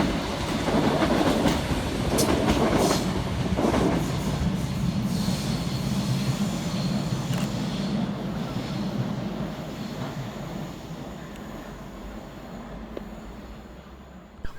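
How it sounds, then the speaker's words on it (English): Scotrail class 320 electric unit 320-312 passes through Pollokshields East station, a loud rumbling rush with clickety-clack of wheels and faint squeal, strongest early then slowly fading as it runs on. "Passing next by the station will be 320-312, working 2 Mike 83 for Scotrail from Newton through to Glasgow Central."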